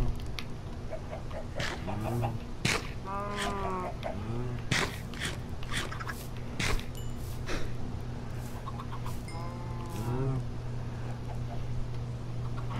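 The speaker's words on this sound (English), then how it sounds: "I got one baby. One baby chicken." Chickens cluck repeatedly in Minecraft, with a baby chicken among them, each a short peep or cluck in an irregular series against a steady low game hum, with no talk.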